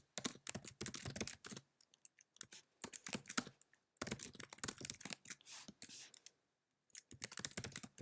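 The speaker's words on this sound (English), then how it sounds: "And I can just type in a message." A computer keyboard is typed on up close, sharp key clicks coming in quick bursts with short pauses between them, and no one speaking.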